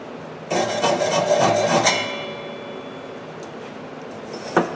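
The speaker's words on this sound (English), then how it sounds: "if there is, I'm just going to use a small flat file" A small flat file rasps repeatedly inside the tooth seat of a carbide saw blade, cleaning it out, in a quick run of close strokes for about a second and a half, then a faint ringing fade and one short knock.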